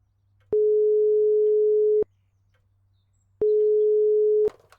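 Telephone ring-back tone in a point-and-click adventure game, two long steady beeps of about a second and a half each separated by a pause, clean and loud, with a faint click at the end.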